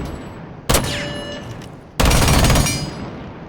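Two loud bursts of rapid gunfire ring out at a shooting range in the video game Rainbow Six. A short volley comes first, then a longer sustained burst after a brief pause, with no talking.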